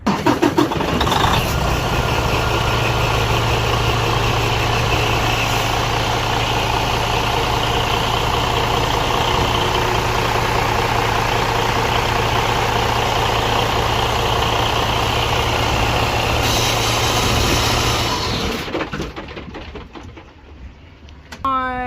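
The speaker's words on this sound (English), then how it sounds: "I am going to turn the truck on and turn the wheel to the left" A truck's diesel engine runs at a steady, loud idle through most of the stretch during a pretrip inspection. It then cuts off near the end, leaving brief rattles and clicks.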